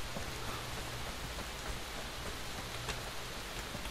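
Steady rain falls in the survival shooter game Fear the Wolves, a dense even hiss of drops on surfaces with a low rumble underneath, constant throughout and free of voices.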